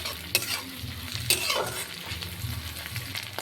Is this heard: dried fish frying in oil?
yes